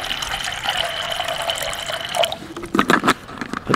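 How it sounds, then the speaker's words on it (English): Water pours into a pot for bush coffee outdoors in the Kansas backwoods, a steady close trickle that shifts pitch as the pot fills, followed by a few splashy gurgles near the end. "Put some water in your pot,"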